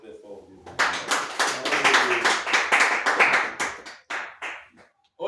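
A church congregation at a baptism service bursts into dense, sustained clapping and cheering for God, loud and busy for about three seconds before thinning into a few scattered claps.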